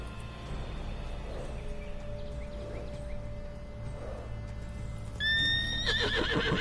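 Roach, the horse in the video game The Witcher 3, whinnies loudly near the end over a steady background of hoofbeats and ambient game noise, with no speech.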